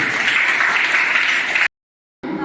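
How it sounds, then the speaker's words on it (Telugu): A group of students at a library training session claps hands together in a loud, steady burst, which breaks off suddenly and then resumes briefly. "చప్పట్లు కొట్టండి"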